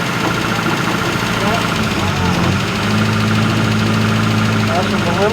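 A restored MG Midget engine idles close by with a steady, even mechanical hum and a slight rhythmic knock, the pitch dipping briefly midway as the throttle is adjusted.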